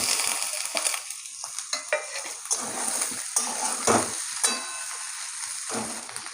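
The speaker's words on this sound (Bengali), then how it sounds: "আলু আর পেঁয়াজ ভাজা হয়ে গেছে" Potatoes and onions fry in a pan for a fish curry, giving a steady close sizzle broken by repeated scraping stirs and light clinks of a utensil against the pan; no one speaks.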